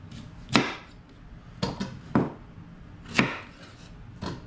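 A knife chops a turnip into pieces on a cutting board, five or six distinct, fairly quiet thuds at uneven intervals, close by, with no talking.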